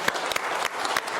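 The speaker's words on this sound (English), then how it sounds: "He's a big round of applause, sir." An audience claps at a live stage event, with brief bursts of applause at an even, moderate level.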